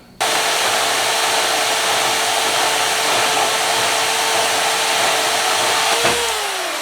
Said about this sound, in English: I'm going ahead and drilling my 3/8 holes in it.